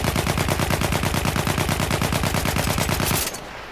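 Trench gun firing full-auto in the video game Battlefield 1, a rapid, evenly spaced burst of loud shots lasting about three seconds before stopping abruptly, leaving a brief fading tail.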